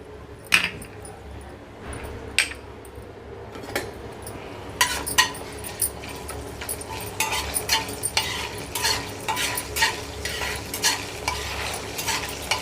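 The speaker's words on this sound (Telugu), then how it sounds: "జీలకర్ర వేయాలి కొంచెం కరివేపాకు" Cumin seeds and curry leaves sizzling in hot oil for an ivy gourd curry, with sparse metallic taps at first, then a louder crackle and busy, rhythmic spoon scraping against the pan.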